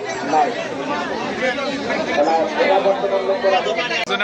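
A dense crowd at a large Eid cattle market in northern Bangladesh fills the air with continuous, loud overlapping chatter and babble, with no single voice standing out.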